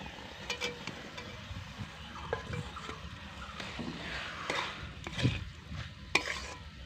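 Banana flower and fried potatoes stir-fried together in a pan: soft scraping and stirring with scattered light clinks of a spatula against metal, fairly quiet throughout.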